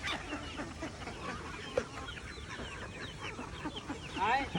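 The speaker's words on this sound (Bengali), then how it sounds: "হাঁস মুরগিকে খাওয়া দিতেছে।" Chickens on a farm in Bhatiari, Chattogram cluck and chatter as they are fed, a soft busy flock murmur with scattered sharper calls and a louder squawk near the end.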